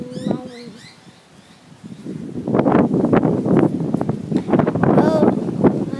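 Gusty wind on a windy day roars into the microphone, rising after a quieter start into loud, buffeting rumble, with a brief voice and bird chirps early on.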